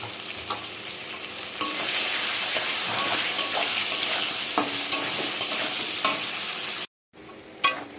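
Chopped onion fries with browned potatoes in a pan, a steady close sizzle broken by repeated stirring scrapes and clacks, briefly cutting out near the end before resuming.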